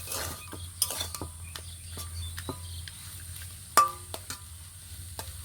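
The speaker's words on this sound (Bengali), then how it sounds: "আবারও সব কিছু একসঙ্গে নেড়ে চেড়ে ভালো করে মিশিয়ে নেব।" A spoon stirring and mixing spices into a bottle gourd leaf filling, scattered sharp scrapes and clinks against the pan at an uneven pace over a quiet, faint background hum.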